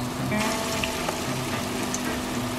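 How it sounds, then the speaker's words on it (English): Steady sizzling of vegan halloumi frying in hot oil, soft crackles and pops over a constant hiss. "You want it to have that nice sizzle to it."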